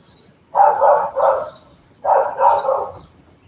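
Dogs barking in a residential neighborhood, heard at a distance in two short bursts of several barks each, separated by a brief quiet pause.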